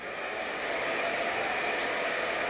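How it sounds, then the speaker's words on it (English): A hair dryer blowing through hair at close range, a loud steady whooshing roar that holds constant throughout without any talk. "So we're just going to blow dry it through."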